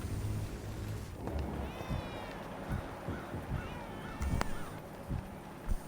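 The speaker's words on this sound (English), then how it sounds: "That kitty's really having a good old meow." A cat in the video game Vampyr gives several drawn-out meows, fairly faint and mid-distance, among scattered ambient thumps and background noise.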